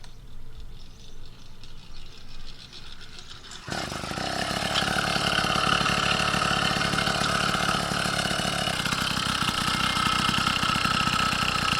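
Small engine on a homemade motorized bicycle jolts to life when the clutch is popped during pedaling, then settles into a steady, rapid putter that runs on alone for several seconds after quieter rustling beforehand.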